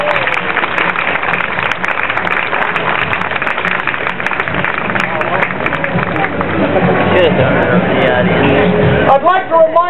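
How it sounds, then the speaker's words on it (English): Audience at a bird of prey show clapping in a dense, loud burst that carries on steadily for about ten seconds, with crowd noise and voices mixed in toward the end. "Give it a round of applause."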